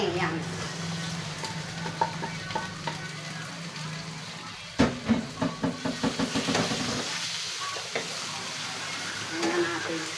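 Pork meat for calderita sizzles in a frying pan with a steady hiss, then a run of sharp scraping knocks as it is stirred, with a short spoken word heard over it.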